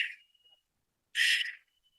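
Two bursts of warbling, bubbly bird-like whistle, one brief at the start and a fuller one later, each trailing off into a thin steady tone.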